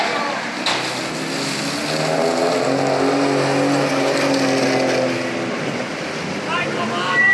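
A historic rally car pulls away at the start of a regularity stage of the Rally Campagnolo Storico, its engine droning and revving steadily beneath a loud commentator's voice, with crowd ambience behind.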